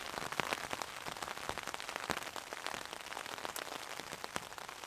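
Rain patters steadily on a tarp in woodland at a wild camp, a dense, close, even hiss of drops with no talk.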